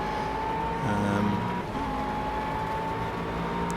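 A McLaren 12C GT3 race car engine in the video game Project Cars drones steadily at high revs, loud and close, with a brief shift in pitch partway through and no talk.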